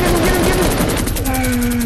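Video game gunfire aimed at an enemy player: continuous rapid automatic bursts, loud and close, with voices talking over the shooting.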